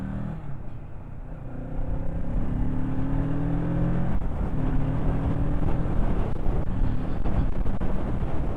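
A Kawasaki Ninja 650 sports tourer motorcycle revs and accelerates while being ridden, its engine note rising through the gears over steady wind noise, close and continuous.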